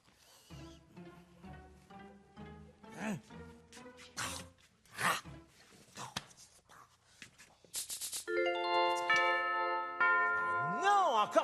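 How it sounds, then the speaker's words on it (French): A cartoon doorbell rings repeatedly with bright chimes amid shuffling sounds and character voices, ending in a long sustained ringing tone. "Non, encore cette sonnette."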